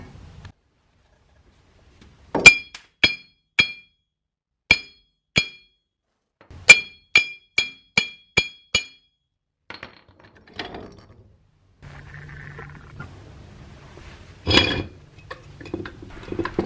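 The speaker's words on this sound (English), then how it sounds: "It's continuing to hammer on it." Sharp metallic taps ring out one after another in an uneven series, each bright and short, as a stubborn wheel bearing part on a 1998–2003 Ford F-150 is hammered, followed by quieter rattling and clatter.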